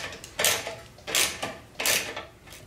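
A ratchet on a 3/8 socket tightens a bolt on a Harley backrest, three short, raspy clicking bursts spaced evenly, close and fairly quiet.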